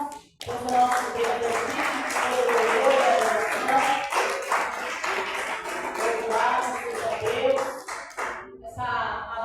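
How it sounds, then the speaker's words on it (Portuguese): A church congregation claps hands together in praise, a dense, sustained wash of many overlapping claps with voices mixed in throughout. "Exalte o nome do nosso Senhor Jesus Cristo com as palmas"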